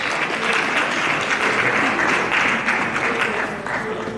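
An audience at a university retirement ceremony gives a sustained round of applause, dense and even throughout, with faint crowd murmur beneath the clapping.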